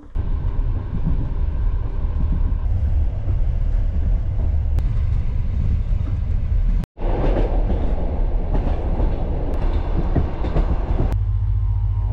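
Inside a moving passenger train, a loud continuous rumble of wheels on rails with faint rhythmic clatter runs throughout, briefly cut by a short break before resuming.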